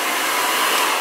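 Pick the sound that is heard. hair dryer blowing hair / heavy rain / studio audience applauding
hair dryer blowing hair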